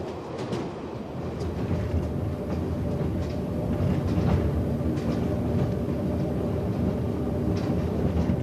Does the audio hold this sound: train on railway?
yes